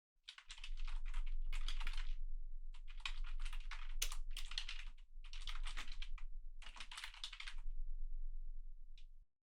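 Quick bursts of typing on a computer keyboard while entering snapshot notes, five clusters of rapid close clicks separated by short pauses over a low steady hum.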